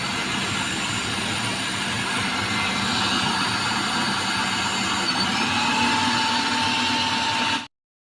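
Mixer grinder whirring steadily as it grinds 500 grams of cabbage and 50 grams of carrot for KFC-style coleslaw, a loud continuous motor drone that holds for about seven seconds before cutting off abruptly.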